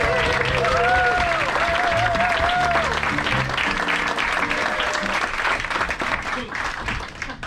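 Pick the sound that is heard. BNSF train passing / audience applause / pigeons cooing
audience applause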